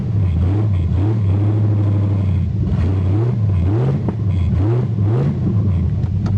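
A Ford Granada engine keeps running at close range after its fuel pump was replaced, a loud, steady rumble whose pitch rises and falls as it is gently revved several times, with no talking.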